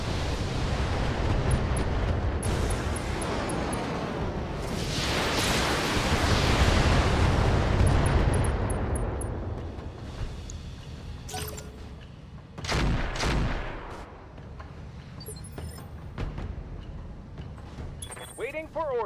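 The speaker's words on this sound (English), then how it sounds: "Firing on multiple enemies." Mech weapons in BattleTech unload on several enemies at once, a loud, dense barrage of booming blasts and rumbling impacts that swells for several seconds, then breaks into sharper separate bursts while someone talks over the action.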